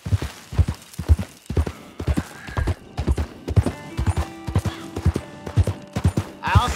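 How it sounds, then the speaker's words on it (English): Horses gallop in Red Dead Redemption 2, a loud, steady run of clip-clop hoofbeats with an occasional whinny and a faint tone or hum underneath. "You hear those horses, those shots?"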